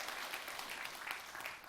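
A church congregation claps during a sermon, giving a soft, dense, continuous patter from a moderately distant crowd, steady throughout with no clear talk over it.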